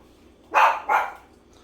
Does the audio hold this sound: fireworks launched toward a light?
no